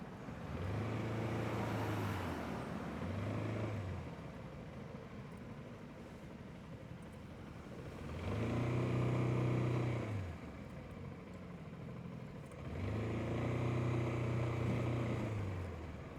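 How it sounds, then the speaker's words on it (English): Engines of road traffic in Tokyo, heard as two or three vehicles swelling past in separate waves with quieter lulls between, moderately distant and steady, with no speech. "Man, traffic is a bummer right now."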